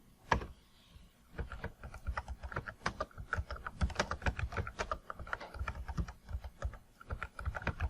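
Rapid clicking of keys on a computer keyboard as search terms are typed, irregular bursts of close, crisp taps with brief pauses, no voice.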